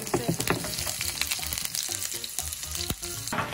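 Onion sizzles in hot oil in a pan for Korean ramen, a dense, close crackle with a few sharp clicks of a utensil against the pan.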